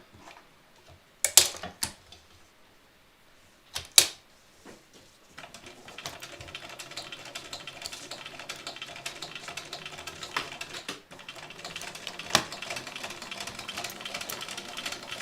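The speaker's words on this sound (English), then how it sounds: "we're just sewing this with 1/4 inch" A domestic sewing machine stitches a fabric strap with a quarter-inch seam, a steady mechanical whirring that runs continuously through the second half after a few sharp clicks and handling sounds near the start.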